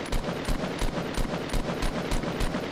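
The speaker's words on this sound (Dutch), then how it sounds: "Ja, goed, ze schieten." Rapid automatic gunfire from the video game Fortnite rattles in a steady burst of about a dozen evenly spaced shots, loud and close, with no voices.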